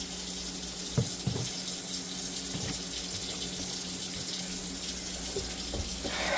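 Water runs steadily from a tap while freshly caught saltwater fish are washed, a continuous close splashing gush with occasional knocks and clatter.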